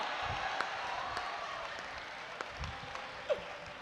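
Audience at a Hindi comedy poetry show (kavi sammelan) giving a short, faint round of scattered clapping, with some background murmur and a voice in the room.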